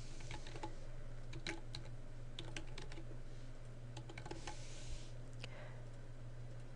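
Keys tapped on a computer keyboard while entering a username for a network password reset, a steady run of light clicks over a constant low hum, close and fairly quiet with no talking.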